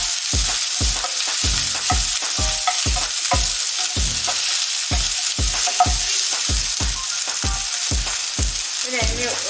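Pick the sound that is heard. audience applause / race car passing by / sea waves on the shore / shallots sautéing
shallots sautéing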